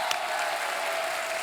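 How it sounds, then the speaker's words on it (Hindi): A television show's studio audience breaks into dense, even applause that holds steady for a moment. "जोरदार तालियां बनती हैं।"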